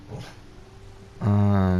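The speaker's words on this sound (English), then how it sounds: "Now my dog's barking." A pet dog barks loudly and close by in a home, one sustained harmonic bark near the end after a quieter stretch with a faint voice.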